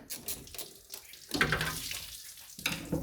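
Water flushes and gushes through a disconnected bottom coolant hose of a rusty MK1 Ford Escort panel van's cooling system, a steady running splash that swells and surges in bursts, close by with no talking.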